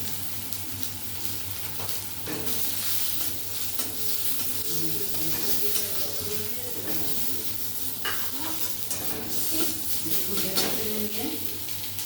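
Ginger frying in a pan with hot chilli powder and cumin powder for a village-style chana dal with potato, a steady sizzle under scraping stirs throughout.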